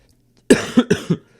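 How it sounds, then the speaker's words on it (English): A single harsh cough breaks into a short burst of three or four rough hacks right against a microphone, loud and close, with quiet around it. "I did not mean to cough into the mic."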